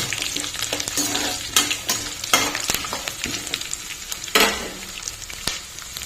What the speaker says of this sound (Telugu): ఇప్పుడు క్యాషూ నట్స్, కర్రీ లీవ్స్ వేసేద్దాం